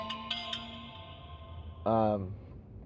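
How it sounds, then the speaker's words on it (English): A work phone rings with a few short electronic tones near the start, followed by a brief burst of a person talking over a quiet room background. "As my work phone rings."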